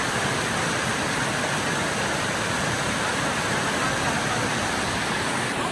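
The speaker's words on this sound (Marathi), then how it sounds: "इतका पाऊस होतो की धबधब्याला पाणी पण वाढलं." Torrential rain falls near a swollen waterfall, producing an unbroken broadband roar of rushing water, loud and constant throughout.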